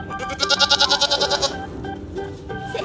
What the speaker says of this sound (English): It's an Angora goat,